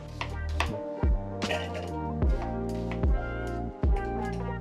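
A large onion is chopped in a food chopper, with about five sharp, regular chopping thuds roughly a second apart over music playing throughout.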